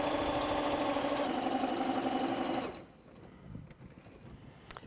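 A sewing machine stitches quilt patches, a four-patch joined to half-square triangles, running steadily and loudly for about two and a half seconds before stopping, with quiet handling noises afterward.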